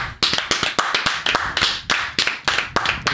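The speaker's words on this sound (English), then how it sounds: "That's the studio audience clapping." A studio audience of about 400 people at a daily talk show claps in loose, sharp bursts of hand slaps, fairly close and loud, with no talking over it.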